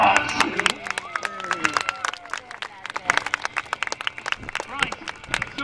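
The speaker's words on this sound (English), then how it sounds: "you can give us an Ulverston Show round of applause" Outdoor crowd applause at the Ulverston and North Lonsdale Show, scattered sharp claps from a spread-out audience, sparse at first and then building into a busier patter, with a voice talking over the start.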